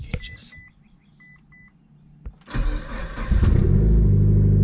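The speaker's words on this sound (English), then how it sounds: "Cold start, 2005 Mitsubishi Lancer Evolution 8." A 2005 Mitsubishi Lancer Evolution 8 cold-starting after a few dash chimes and beeps: the starter cranks briefly, then the engine catches and settles into a loud, rough, steady idle close by.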